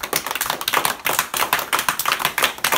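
A group of people claps fast and steadily to a beat, sharp close hand claps in a quick even rhythm, with no talking.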